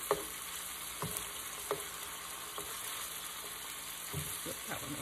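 Beef sizzles steadily in a hot pan with a constant frying hiss, and a utensil stirring and flipping the meat knocks and scrapes at intervals.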